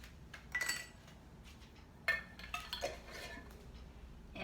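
A spoon scraping and clinking against a bowl while organic coconut oil goes into a wet almond pulp mixture, a few quiet, close metallic taps and scrapes spread over several seconds, with no talk.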